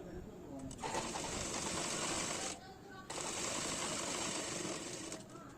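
A sewing machine stitches a full-sleeve collar onto a nighty, running in steady close bursts of rapid mechanical chatter with a short pause in the middle, loud and continuous otherwise.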